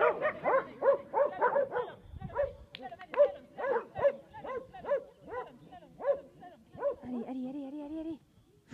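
A dog at a French sheepdog trial barks and yips in a fast, repeated series. The barks are close and loud, and the dog whimpers in high whines toward the end.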